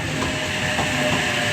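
A passenger train rolls past at a station near Port Kembla, its rear four-car set giving a loud, steady rumble with faint rail clatter.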